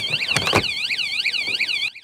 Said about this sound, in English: as you can hear, it is still quite loud from inside